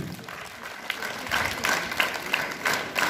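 A group of school students clapping their hands during a class drill, a busy ragged patter of claps with a few louder sharp strikes standing out, fairly close.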